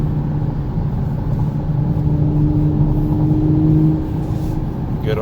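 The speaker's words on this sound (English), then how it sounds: "love to hear that engine roar" A 2019 Audi S5 Sportback engine hums and rumbles steadily from inside the car, with a rising tone building under a constant loud drone before easing off.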